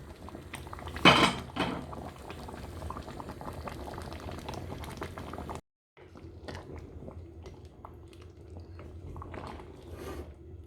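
A pot of stew peas with diced beef simmers and bubbles continuously nearby, with occasional clinks of a utensil against the pot and a short break partway through.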